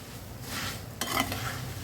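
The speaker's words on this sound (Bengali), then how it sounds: "চিনিটাকে এপাশ ওপাশ করে নেড়ে ছেড়ে নেব, মানে উল্টে পাল্টে মুড়িটার সাথে মিলিয়ে দিব।" A spatula scrapes and turns puffed rice with sugar in a pan of ghee, a short, quiet rustling stir with a faint sizzle and a light metallic scrape, no voices.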